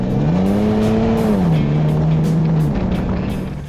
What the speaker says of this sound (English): the only notable sound I hear is from the TRD exhaust out back